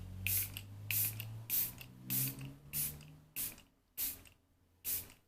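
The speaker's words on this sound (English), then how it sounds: "It's a spray like that." A makeup setting spray bottle is pumped about nine times in a steady rhythm, each a short sharp hiss of mist, close by.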